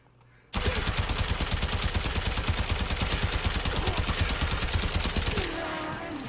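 Fulmin rifle in Warframe firing in sustained full-auto, a rapid, even stream of loud close shots that starts abruptly and runs about five seconds before cutting to a quieter tail.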